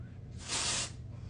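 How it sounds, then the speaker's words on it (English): Living Proof dry volume and texture spray hisses from an aerosol can in one steady burst of about half a second, applied close up at the hair roots, with quiet room tone before and after. "I have this Living Proof dry volume and texture spray, and I'm going to go right up by my roots here"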